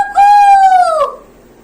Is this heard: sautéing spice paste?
no